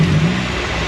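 A Nissan 240SX's KA24E engine revving up after misfire repairs, a brief loud blip of rising engine pitch that settles back toward idle within a second.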